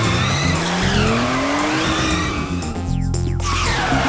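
A Firebird car skids in a chase with loud, sustained tire squeals sweeping up and down in pitch over a roaring engine, close and intense throughout.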